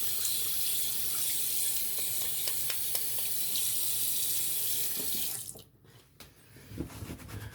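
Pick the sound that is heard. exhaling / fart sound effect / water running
water running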